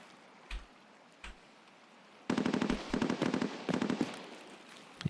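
Gunfire in the video game Escape From Tarkov: two isolated single shots, then a sustained rapid automatic burst with short pauses between strings of rounds, loud and close, ending with a final pair of shots.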